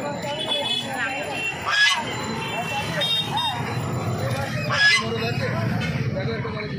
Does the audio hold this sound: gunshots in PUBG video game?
no